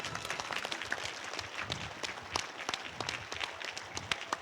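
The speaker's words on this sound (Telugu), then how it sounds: "చప్పట్లు కొడదాం" Audience applause at the close of a group meditation session, a dense wash of many hands clapping steadily throughout with sharper individual claps standing out, moderately loud and with no talk over it.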